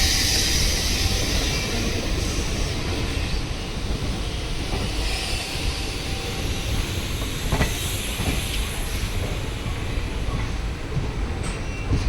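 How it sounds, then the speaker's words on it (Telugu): A train pulls out of Nandyal railway station with a loud, continuous rumble and hiss of rolling wagons and a few sharp clanks, close by and without speech. "సో ప్రజెంట్ మీరు నంద్యాల నుంచి ట్రైన్ డిపార్చ్ అవ్వడం గమనించవచ్చు"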